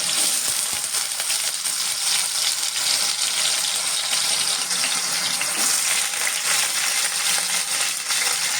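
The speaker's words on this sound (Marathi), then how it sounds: "हे चांगल्या प्रकारे तुपामध्ये परतून घेतोय." Potatoes frying in ghee with cumin for sabudana khichdi give a loud, dense, continuous close sizzle with a faint scraping stir underneath.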